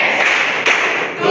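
A class claps in a one-two-three pattern, a rolling mass of hand claps with one sharper accented strike partway through, close and fairly loud.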